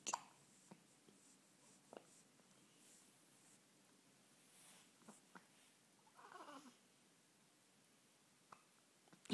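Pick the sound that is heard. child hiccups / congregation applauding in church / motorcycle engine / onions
child hiccups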